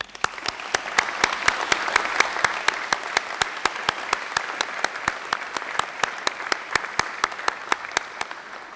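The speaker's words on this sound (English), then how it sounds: "give them a hearty round of applause" Graduates applauding their families and friends at a university graduation ceremony, a hall of clapping with distinct sharp individual claps standing out in a steady rhythm over the dense wash of hands.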